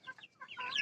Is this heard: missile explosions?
no